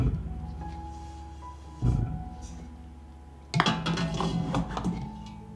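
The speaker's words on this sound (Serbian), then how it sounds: "na dno šerpe stavljam krpu i unutra ređam tegle" Glass jars clink and knock as they are set one by one into a pot lined with a cloth, two clusters of sharp chinks over a quiet kitchen background.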